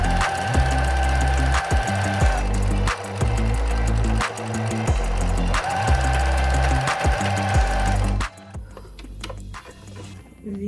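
A sewing machine stitches fabric for a curtain tie in bursts of rapid mechanical chatter, stopping and restarting several times, close and loud, then goes quiet near the end.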